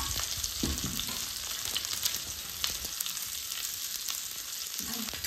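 Onion sizzles and crackles in hot oil on a griddle, a steady frying hiss with occasional stirring clatter and no talking.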